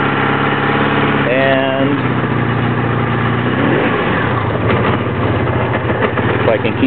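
A Honda Magna V65 motorcycle engine that is very hard to start and leaking gas idles steadily and loudly up close, with someone talking over the running engine.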